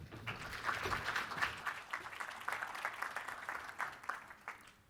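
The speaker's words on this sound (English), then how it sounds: "Round of applause, please." A conference audience at a network security talk gives the speakers a round of applause, a fairly faint, steady patter of clapping that swells briefly and then thins out.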